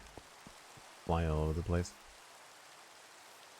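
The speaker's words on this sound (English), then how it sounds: "Rain on the Minecraft server." Rain falling in the video game Minecraft makes a steady, soft hiss throughout, with a voice briefly talking over it partway through.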